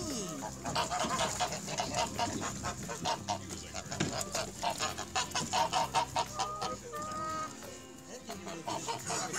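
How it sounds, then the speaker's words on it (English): Farmyard geese honk repeatedly in loud, rhythmic bursts, with chickens and ducks also present on a small family farm; calls come close and continuous with little pause. "These are geese, right?"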